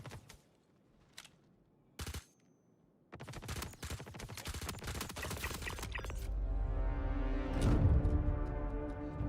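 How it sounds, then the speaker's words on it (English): Gunfire in the Star Citizen video game, starting as scattered sharp shots and building into dense, rapid bursts that run into a loud, sustained roar, with no talking. "Where's that fire coming from?"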